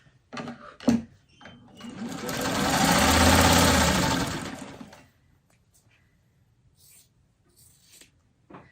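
A sewing machine stitches fabric from corner to corner in one steady whirring run of about three seconds that swells and fades, close up, after a few clicks and thumps of handling.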